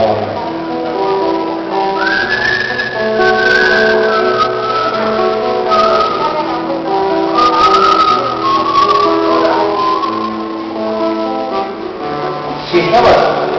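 Slow, drawn-out whistled melody during a criollo recitation at Precosquín 2013, over a dense musical backing, the whistle rising and falling gently in long phrases.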